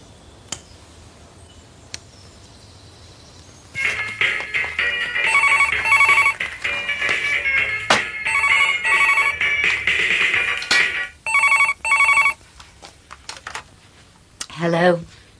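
A domestic telephone rings in repeated bursts, loud and near, with short gaps between rings and a voice speaking briefly near the end.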